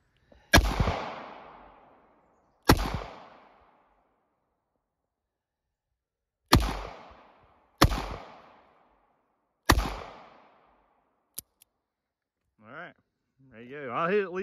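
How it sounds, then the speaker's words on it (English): Five sharp, loud handgun shots from a small pistol fired double action outdoors, spaced irregularly with ringing decays, followed by a small click and then people talking. "so I'm not gonna cock it back, just gonna pull the trigger"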